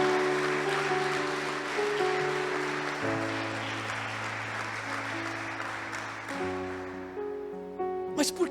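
A church congregation applauds in praise during a sermon, steady clapping beneath sustained organ or keyboard chords that shift partway through.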